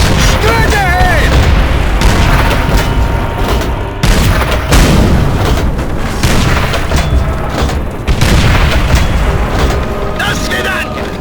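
Tank cannon fire and gunshots in the World at War campaign, repeated heavy booms and rumbling blasts across the whole stretch, loud and close, with shouted voices mixed in.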